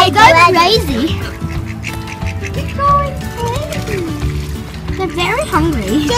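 Ducks quack repeatedly at a lakeside feeding spot, with several birds calling close by amid the flock while people chatter over and between the calls.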